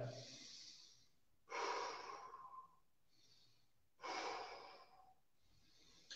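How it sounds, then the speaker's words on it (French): Three deep abdominal breaths in a guided breathing practice, each a long airy inhale and exhale heard close and alone, with quiet gaps between them. "3 grandes respirations abdominales."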